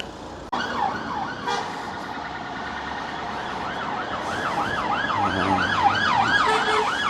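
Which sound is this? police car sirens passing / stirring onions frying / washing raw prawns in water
police car sirens passing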